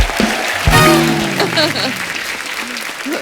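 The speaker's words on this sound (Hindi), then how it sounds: "एक बार इनकी फिटनेस के लिए जोरदार तालियां हो जाए यार" Studio audience on a comedy talk show bursts into loud, sustained applause, with a brief vocal sound near the start and the clapping carrying on steadily before tapering slightly.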